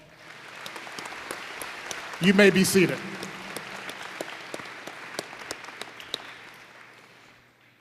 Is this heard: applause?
yes